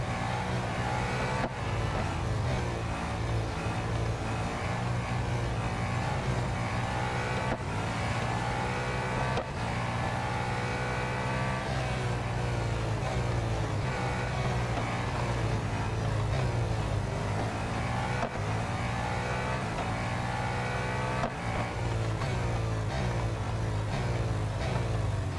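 Race car engines in the Real Racing 3 mobile game drone continuously, with rising and falling pitch as cars accelerate and shift during a close overtake. The engines stay loud and steady, with no speech.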